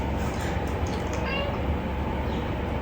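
A house cat meows a few times near a cardboard box while someone unpacks camera gear, the short calls rising over a busy room background.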